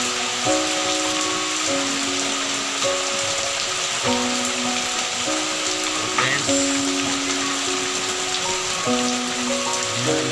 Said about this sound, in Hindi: बहुत ही तेज बारिश हो रही है